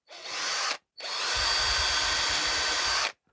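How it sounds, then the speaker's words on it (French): Power drill boring into a wooden Dadant nucleus beehive being converted to a Warré hive, a short burst followed by a longer steady whine lasting about two seconds, close and loud. "Perce."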